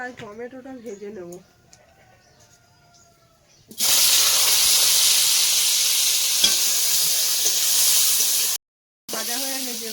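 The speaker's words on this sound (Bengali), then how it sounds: "এই কড়াই টমেটোটা ভেজে নেব।" Tomato is dropped into a hot wok and bursts into a loud, steady hiss of frying that lasts several seconds. A voice talks before the sizzle starts and again after a brief cut at the end.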